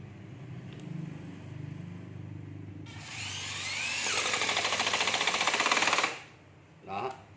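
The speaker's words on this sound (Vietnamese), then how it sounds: "Rồi bán cái con vít cho em nghe cái tiếng búa dầu." A hydraulic impact driver drives a screw in a single loud continuous burst of rapid hammering rattle lasting about three seconds, with faint background noise before and a short sound after.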